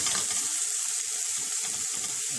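Freeze-dried Thrive Life mushrooms fry at high heat in a pan, a close, continuous crackling sizzle with light stirring noises and no talk.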